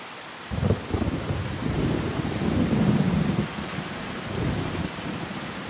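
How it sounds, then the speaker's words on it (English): Heavy rain and wind sweep through a misty rainforest while low rumbles of thunder roll in waves, loud and steady with no voices. "Rain sweeps in and brings mist with it."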